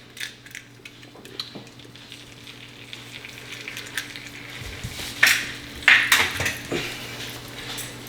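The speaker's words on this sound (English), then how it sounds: "drop our egg into the center of the pan" A single egg fries sunny side up in a pan with a steady soft sizzle, then louder spitting crackles swell for a few seconds before settling back to a quieter fry.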